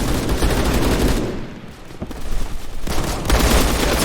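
Gunfire in a first-person shooter video game: loud, dense bursts of rapid automatic shots with booming low-end impacts, a brief lull in the middle, then renewed firing, close and without voices.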